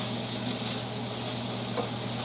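A white bean and sausage skillet sizzling steadily while being stirred, a constant close hiss with faint scraping underneath.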